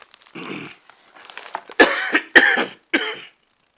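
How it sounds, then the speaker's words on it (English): Several harsh, close coughs in a row, starting with a wheezy throat sound and ending in three loud, sharp bursts. "pardon my cough"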